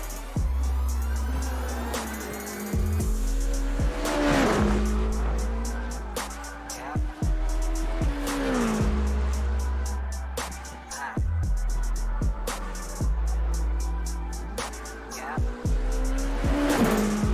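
A prototype race car in iRacing at Circuit Gilles-Villeneuve roars loudly throughout, engine rising and falling through gear shifts, with bursts of tire squeal as the rear wheels lock under braking into a corner.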